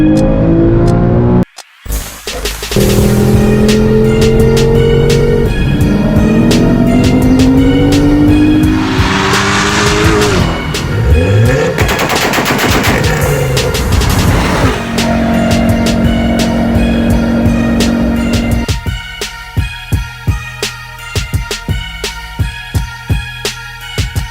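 Porsche Cayman GTS and 718 Cayman S accelerating hard on an unrestricted autobahn, loud engines rising in pitch through several gear changes, with sharp whooshing passes and crackling toward the end.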